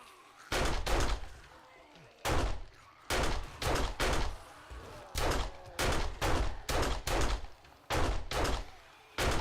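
Gunfire in the video game 7 Days to Die comes as loud, sharp shots in short bursts and single reports, about a dozen spaced through the stretch with brief gaps between them.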